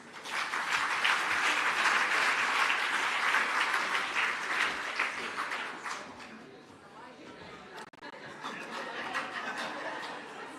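An audience at an awards ceremony applauds in a loud, dense round that fades after about six seconds into softer scattered claps and murmuring, with a bit of laughter and chatter.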